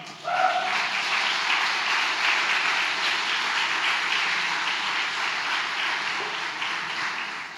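A church congregation breaks into sustained applause, a dense, steady roar of many hands clapping that holds for several seconds before tapering slightly.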